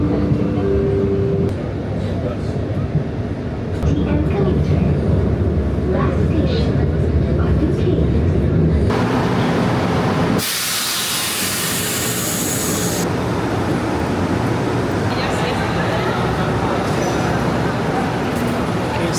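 Steady, loud rumble and rush inside a moving Kuala Lumpur train heading to Batu Caves, continuous throughout, with a sharp burst of brighter hiss partway through before the running noise settles again.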